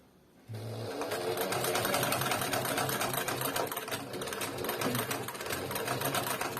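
A Soldatka class 23A industrial sewing machine stitching canvas kicks in abruptly after a quiet moment, then keeps up a fast, rattling, continuous mechanical chatter close to the microphone.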